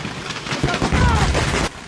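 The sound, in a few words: firecrackers exploding one after another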